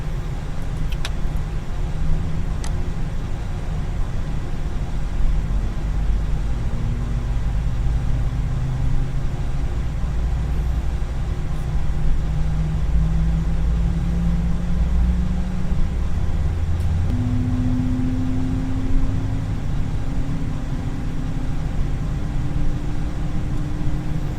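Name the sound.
Airbus engine number 1 starting up in FSX flight simulator video game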